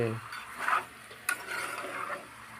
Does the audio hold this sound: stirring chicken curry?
yes